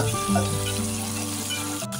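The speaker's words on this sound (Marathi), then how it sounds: "आणि त्यासोबत घालूया 2 मोठे कांदे चिरलेले, परतवून घेऊया।" Two large chopped onions sautéing in a hot pan with a bay leaf, giving a steady, close sizzle and crackle that runs on without a break, with no talking.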